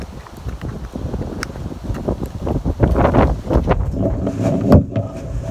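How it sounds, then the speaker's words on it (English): Strong wind blows outdoors on a public-land mule deer hunt, gusting and buffeting the microphone in a loud, rough roar with scattered thumps like footsteps. "This wind is just terrible, man."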